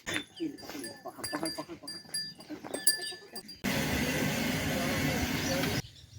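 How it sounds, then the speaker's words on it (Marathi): A goat bleats a few times in a village farm setting near a lake, with people talking nearby, before a loud broadband rush of wind or passing noise takes over the second half. "हे बाय बकरी आली"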